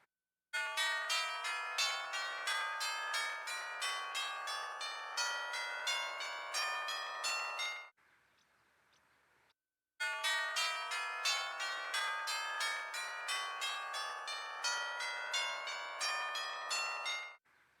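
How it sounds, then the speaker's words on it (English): Rapid runs of bright bell-like chimes for letters in the Sesame Street CD-i game, a long continuous cascade of repeated tones, then a short quiet gap before a second identical chiming run. "That is not one chime per letter."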